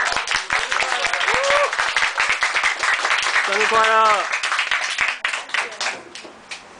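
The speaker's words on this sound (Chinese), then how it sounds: "大家鼓掌好吗？" An audience at a bookstore talk applauds for a guest's birthday. Close, brisk clapping from a small crowd is joined by voices calling out a greeting, then tapers off.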